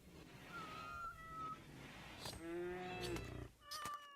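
Cats in the colony-building game RimWorld give several clear meows in a row, close and distinct, with a short gap before the last couple of cries.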